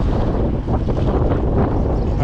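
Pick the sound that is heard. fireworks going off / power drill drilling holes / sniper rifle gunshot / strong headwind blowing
strong headwind blowing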